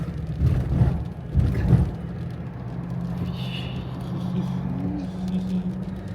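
A car approaching along a mountain road shrouded in cloud and fog at Morro da Igreja in Urubici, its steady low engine rumble rising gradually in the background.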